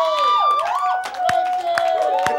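A studio crowd at a comedy talk show cheers and claps loudly, with whoops and shouts rising over a steady wash of applause and a voice or two cutting through.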